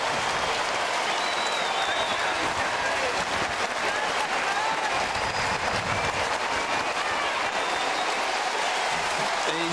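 Roar of a large crowd at an Australian football match between Geelong and the Sydney Swans, cheering and clapping in a dense, continuous wash for a player leaving the field, with commentary voices faintly underneath.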